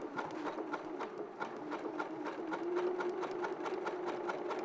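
Domestic sewing machine stitching a zigzag, a fast steady mechanical clatter of rapid rhythmic needle strokes, close and fairly quiet, running continuously.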